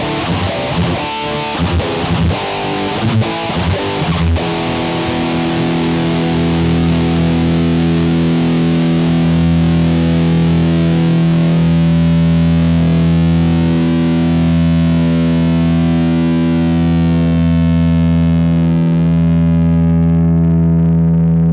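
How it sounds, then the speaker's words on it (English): Heavily distorted electric guitar with no noise gate, starting with choppy muted chugs, then long roaring sustained chords that slowly fade into a constant hiss and hum of amplifier noise, loud and close. "I'm going to use a very distorted tone to like overemphasize this effect. And here it here is first without any noise gate at all"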